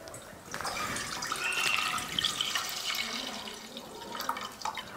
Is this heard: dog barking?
no